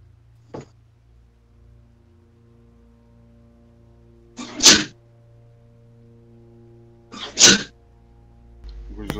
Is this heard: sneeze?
yes